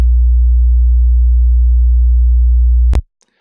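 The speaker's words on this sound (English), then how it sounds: "Like you heard, that guy is always generating a sine wave." A steady, loud, very low pure sine tone hums unchanged for about three seconds, then cuts off abruptly with a click, leaving silence.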